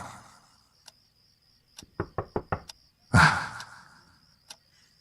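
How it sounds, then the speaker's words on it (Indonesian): Knuckles rap on a bedroom door at night in a quick run of four close knocks, followed by a louder thud with a short rattle, while a few faint single taps come before and after in a quiet room. "aku merasa dia mengetuk pintu kamar."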